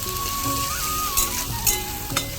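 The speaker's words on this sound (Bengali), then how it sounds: "হালকা পেঁয়াজটা ভাজছি দেখো পেঁয়াজটা কিন্তু নরম হয়ে গেছে" Onion softens as it fries in a pan, a steady close sizzle with a few faint utensil clicks over a brief stretch.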